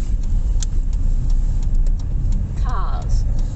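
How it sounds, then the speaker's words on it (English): Cars drive by on a road with a constant low engine and tyre rumble, with a person speaking briefly over the traffic noise. "Cars, cars, cars. Lots of cars."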